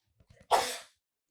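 A few quick soft inhales, then one sharp, explosive sneeze close by that fades within about half a second.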